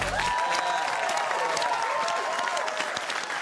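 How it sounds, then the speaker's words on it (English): A studio audience at a comedy television show applauds and cheers for a charity, a dense, continuous roar of clapping mixed with whoops that stays loud and even throughout. "Another round of applause for Lifeline"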